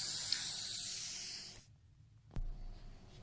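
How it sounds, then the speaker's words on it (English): A spray can of polyurethane hisses in a long continuous burst, then stops, followed by a short click and quiet rustling. "shake up your can of polyurethane, spray on a couple even coats"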